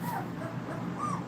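A puppy whimpers softly nearby in a few short, thin, high whines, faint and close in a quiet room.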